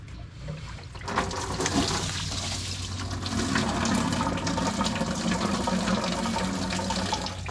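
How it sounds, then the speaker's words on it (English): Engine coolant pours from a disconnected hose into a bucket during a big-block engine swap, a continuous splashing, gurgling stream that swells after a brief start and keeps running steadily. "try to redirect as much of the coolant into the bucket as possible"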